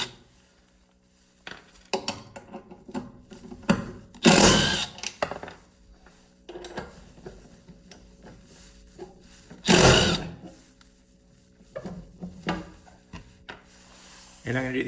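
On a Ryobi battery electric snowblower, 10 mm bolts holding the auger are backed out: metallic clinks and tool rattles, with two loud, harsh bursts a few seconds apart, mixed with someone talking.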